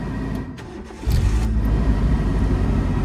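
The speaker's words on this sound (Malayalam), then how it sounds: "ഒറ്റയടിക്ക് വണ്ടി സ്റ്റാർട്ടായിരിക്കുകയാണ്." A car engine turns over and catches at about one second, then settles into a steady, loud idle rumble close by, with no talk over it.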